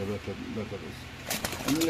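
Soft, low pigeon coos sound close by, a few throaty notes, followed by brief rustling and flutter with voices talking nearby at a pigeon sale.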